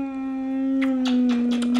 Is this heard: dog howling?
yes